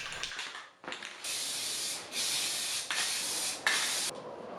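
A spray can sprays paint onto wooden furniture in four close, loud hissing bursts of about a second each, separated by brief pauses, after a few short taps and sputters at the start.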